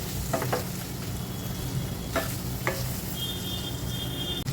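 Asafoetida and turmeric sautéed in a pan for Maharashtrian masale bhat, a steady close sizzle broken by a few sharp scraping stirs, no talk.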